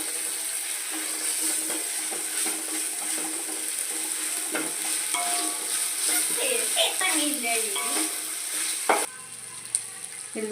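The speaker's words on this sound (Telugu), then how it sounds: "ఇప్పుడు అల్లం పేస్ట్ ఒక స్పూను, ఒక స్పూన్ ఏమో మసాలా వేసుకొని బాగా ఫ్రై చేసుకుందామండి" Ginger paste and masala sizzle and fry with onions and chillies in a pan for chicken dum biryani, a steady close crackle with stirring scrapes throughout and a brief sharper clatter near the end.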